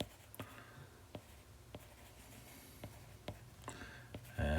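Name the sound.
writing an answer by hand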